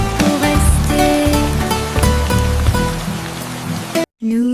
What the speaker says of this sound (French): Les gouttes de pluie tombent, dansent et jouent.